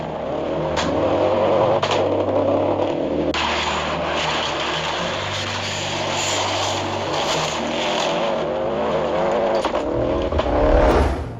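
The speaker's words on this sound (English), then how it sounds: "I'll always be in awe of Colin McRae behind the wheel of L55 Bat in his championship-winning 1995 season and that classic Subaru soundtrack" A 1995 Subaru WRC rally car driven flat out, its engine droning loud and close with repeated revs and gear changes, a rising pitch and sharp throttle cuts, ending in a deep rumbling surge.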